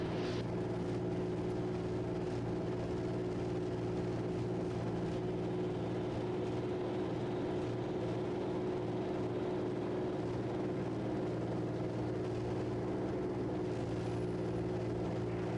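Raptor prototype aircraft taxiing on the runway, a steady droning engine hum heard from inside the cabin, constant and moderately loud with no talk.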